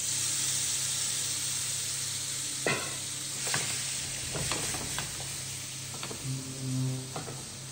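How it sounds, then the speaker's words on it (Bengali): Bele fish sizzles as it fries in oil in a pan over full heat, with a steady hiss broken by scraping stir strokes and spatters, fairly soft and with no talking. "এই যে মাছটা মাখানো আছে, এই মাছটা আমি এই দিয়ে দিলাম ফ্রাইতে"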